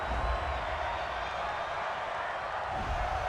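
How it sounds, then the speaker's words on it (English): Football stadium crowd at a Cleveland Browns versus Minnesota Vikings game roaring steadily in disapproval after a penalty call, a continuous dense wash of many voices at even loudness throughout. "this crowd does not like that call"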